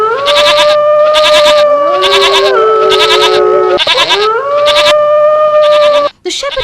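Sheep bleat loudly and repeatedly in a pasture, a run of long wavering cries following one another with brief gaps, close up and with no talking.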